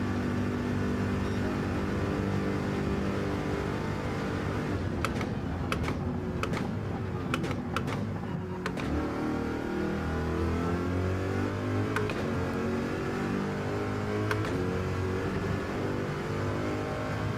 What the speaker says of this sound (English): I love the sound of this car and the Mustang. Like, American muscle car sounds so cool.